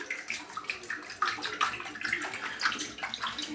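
Shaving brush rinsed under a running tap, a continuous close splashing and trickling of water with uneven surges, no talking.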